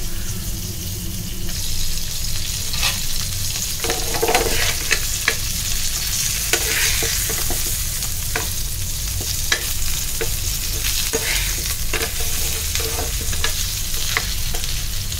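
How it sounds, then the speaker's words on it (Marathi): Semolina-coated bangda mackerel fries crisply in a pan, a continuous loud sizzle with scattered sharp crackles and occasional scraping of the pan. "दोन्ही बाजूने छान क्रिस्पी फ्राय करून घ्या"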